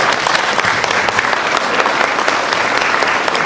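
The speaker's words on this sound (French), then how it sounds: "On peut l'applaudir." Loud, dense applause from the audience at a humanitarian award ceremony in Marseille, a sustained close roar of many hands clapping with no speech over it.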